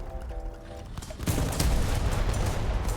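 Two Panzer III tanks trade fire in a World War II tank battle video game, a dense, sustained roar of gunfire and booms erupting after a quieter opening and continuing loud and unbroken to the end.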